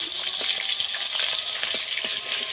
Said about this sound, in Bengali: মাছ ডোবালটা ভেজে নেব আমি।